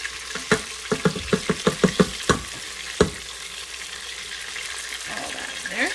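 Minced garlic and browned chicken pieces fry in a pressure cooker pot under a steady sizzle. A spoon scrapes and clanks against the pot in a quick run of rhythmic strokes, then stirring slows.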